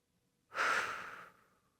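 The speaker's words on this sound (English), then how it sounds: "Let's take 2 more deep breaths here." A single deep exhale during a yoga pose, a soft breathy rush that swells quickly and fades over about a second, close and quiet with no talking.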